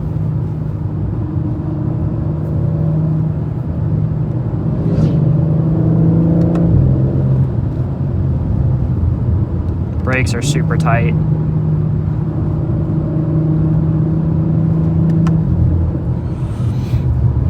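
A BMW G82 M4 Competition drives through canyon roads with its engine rumbling loud and steady the whole way, the tone rising and falling as it pulls, while someone talks over it.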